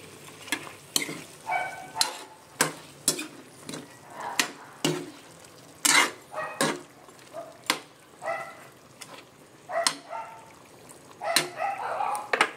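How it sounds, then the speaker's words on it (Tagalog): Adobong manok with broccoli and string beans stirred in a pan: a steady run of sharp utensil clacks and scrapes against the pan over a soft sizzle, close and fairly loud. "Halo natin."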